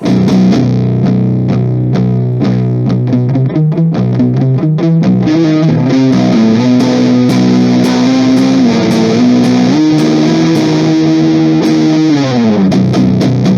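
Electric guitar played through a modified Boss Metal Zone distortion pedal, loud and saturated, with fast picked chords giving way to sustained, bending lead notes that ring out before fading at the end.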